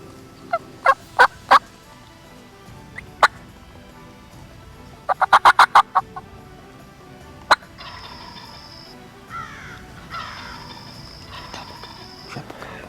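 Wild Osceola turkey gobbles ring out during a hunt, several rapid rattling bursts at moderate distance over outdoor ambience, followed by softer calling sounds.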